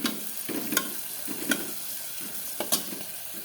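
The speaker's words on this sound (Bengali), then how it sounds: "সেই জন্য একটু বেগুন ভাজবো" Eggplant sizzling as it fries in a pan, a constant hiss broken by regular scraping and stirring clatters of a utensil against the pan, close and clear with no talk.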